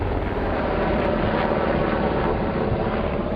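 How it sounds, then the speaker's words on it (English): A military medevac helicopter arrives, its engine and rotor making a steady, loud, dense roar that holds continuously throughout with no voices. "the medevac helicopter finally shows up"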